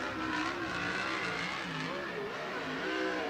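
A USAC midget race car at Merced Speedway accelerates hard off turn four toward the checkered flag, a loud, continuous, rising engine roar with shifting harmonics and no speech.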